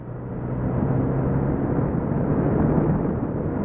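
A Yamaha FZ-09 motorcycle engine lugs in sixth gear at about 2,500 RPM, a smooth, continuous low drone that swells gently and holds steady throughout.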